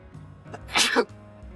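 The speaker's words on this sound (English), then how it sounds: "I felt that sneeze building up and I was trying to hold it in, but could not do it." A single stifled sneeze, a short sharp burst after a brief held-in buildup, close and clear over a quiet hum.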